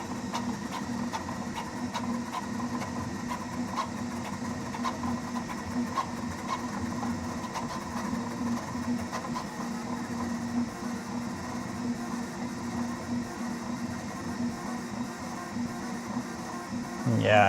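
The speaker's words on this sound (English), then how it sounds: "tried to print a Benchy fast, but seeing that it's a standard option for this printer, then let's go for it and see what we get." A Prusa Core One 3D printer runs a fast Benchy print, giving a steady whirring, buzzing mechanical drone with rapid stepper motor tones, continuous and fairly close, with no talk over it.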